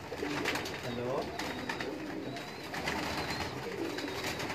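Pearl-marked pigeons cooing in a loft on a hot, sunny day, a steady chorus of overlapping low coos with a faint voice and general background noise mixed in.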